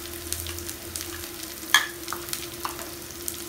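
Onions and spinach fry quietly in a pan over a medium flame, with a soft sizzle under intermittent scraping stirs and a few sharp clicks of the spoon against the pan.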